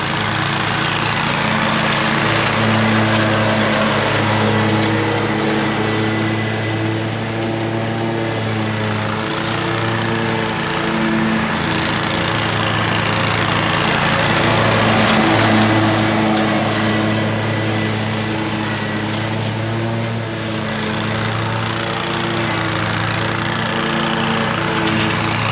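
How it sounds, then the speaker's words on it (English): A lawn mower runs steadily while cutting stripes into a lawn. Its engine drone stays loud, close and unbroken throughout, with no voices. "It's mowing really good."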